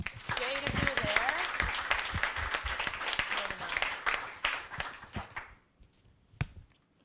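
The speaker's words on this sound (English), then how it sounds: "Can we all applaud Jade?" Audience applause rings out for a climate-crisis talk, dense steady clapping from many hands that thins out and fades near the end, with a last stray clap.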